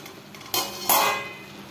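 A lid is lifted off a covered pot of Kerala-style crab thoran, giving two brief broadband clatters about a third of a second apart, then a soft sizzle that fades. The scene is close and quiet, with no voices.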